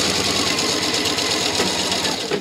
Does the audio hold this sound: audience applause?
no